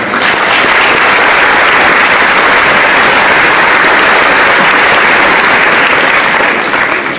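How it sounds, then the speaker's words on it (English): Loud, thick applause fills a school athletic signing event as the crowd honors student athletes and their families, a continuous roar of many hands clapping at once without a break. "let's give a round of applause to our student athletes and families"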